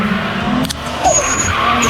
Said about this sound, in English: This is TJ's first time drifting the bank at Irwindale